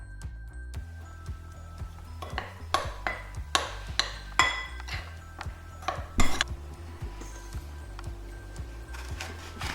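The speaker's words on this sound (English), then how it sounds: "In a bowl with 100 grams of cornflour, add a 1/4 teaspoon of salt and a 1/4 teaspoon of pepper and mix well." A spoon clinks and taps against a bowl while cornflour is mixed with salt and pepper. Sharp, irregular knocks cluster in the middle over a low background hum, close by, with no talking.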